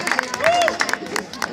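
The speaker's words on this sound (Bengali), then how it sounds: "একটা জোরে হাততালি হবে সৌম্যদা, জোরে জোরে।" An audience at a live unplugged band performance claps and cheers, scattered hand claps mixed with crowd noise and voices, fairly close and lively for a moment.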